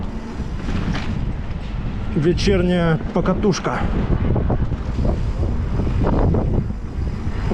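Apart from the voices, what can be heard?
strong wind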